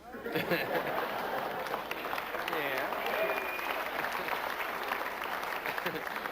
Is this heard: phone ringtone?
no